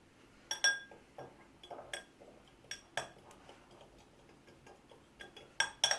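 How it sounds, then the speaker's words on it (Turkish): A spoon clinks against a bowl while cumin, tomato paste, oil and apple vinegar are mixed for baked chicken wings, giving light, irregular metallic taps and scraping, close and fairly quiet. "Önce malzemelerimizi karıştıralım."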